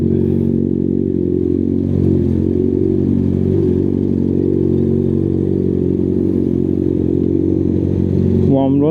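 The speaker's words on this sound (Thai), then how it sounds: "อยากขับวอร์มรถเฉยๆ นะครับ" A vehicle engine idles and runs steadily while warming up, giving a loud, continuous low hum with mechanical clatter. It stays close and constant throughout.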